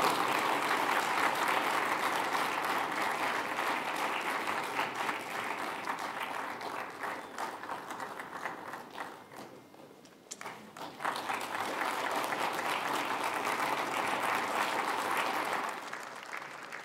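A large audience gives long, sustained applause for the two Cypriot leaders, Mustafa Akinci and Nicos Anastasiades, a dense, steady roar of clapping that dips briefly near the middle and then swells again.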